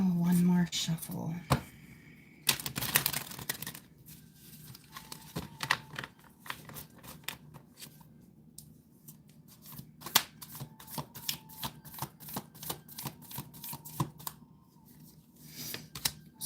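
Tarot cards being shuffled, a run of quick papery riffles and crisp flicks, close and fairly quiet, with a voice talking in spots.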